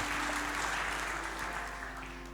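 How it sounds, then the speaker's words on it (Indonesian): Church congregation clapping hands during a Sunday worship service, a dense steady wash of claps with a low hum beneath, tapering a little by the end. "Tepuk tangan bagi Allah kita."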